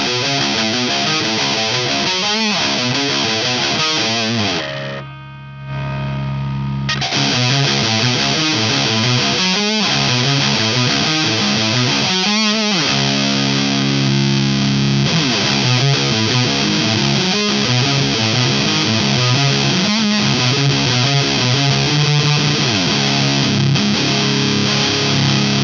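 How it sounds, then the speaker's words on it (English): An electric guitar played through a Walrus Audio Fundamental Distortion pedal with the gain maxed: thick, saturated, fuzzy riffing that stays loud and continuous, with a brief drop as chords ring out before the heavy playing resumes, no talking. "You're going to get this super stonery, fuzzy kind of sound."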